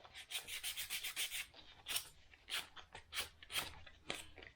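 Hand sanding of quarter-inch wood underlayment with 200 grit sandpaper gives quick, close, raspy strokes in an uneven rhythm, with a few short pauses between passes.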